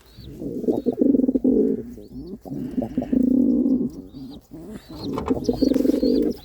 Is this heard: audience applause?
no